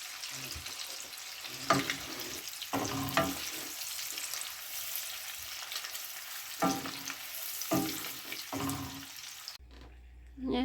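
Meat frying in a pan for a Kazakh pasta dish, a steady close sizzle with intermittent scraping stir strokes, loud and constant until it cuts out near the end.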